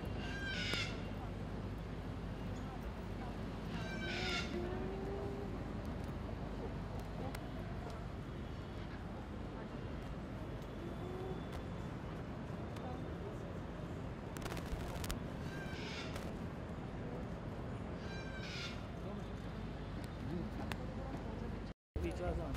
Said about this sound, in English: These are small pony horses.